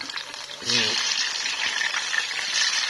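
Salted fish frying in reused cooking oil, a steady broadband sizzle and crackle that swells louder after a brief voice near the start and keeps going without a break.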